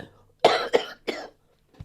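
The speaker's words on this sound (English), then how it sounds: "let me cough." A few harsh coughs in quick succession, close and fairly loud, followed by a short quieter cough after a pause.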